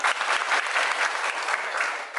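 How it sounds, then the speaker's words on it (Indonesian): A group of participants in a teaching session claps together, a loud, dense burst of applause that continues steadily before tapering at the end. "Luar biasa, tepuk tangan."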